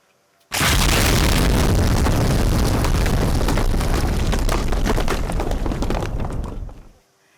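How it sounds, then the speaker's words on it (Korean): A hidden enemy self-destruct drone explodes during a military training drill, one huge, close blast that erupts suddenly and roars on for about six seconds before cutting off. "그 순간 거대한 폭발음과 함께 은닉되어 있던 적의 잔존 자폭 드론이 폭발합니다."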